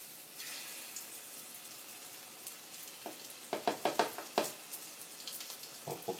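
Mozzarella fritters fry in hot oil with a soft, faint sizzle, broken by several sharper crackling pops partway through; no one speaks.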